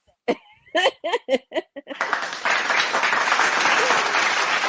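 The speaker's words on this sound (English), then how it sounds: "you could cut on your little, clapping effects" A burst of clapping comes in abruptly and holds as a steady, close wash after several short vocal bursts that sound like laughter or hiccups.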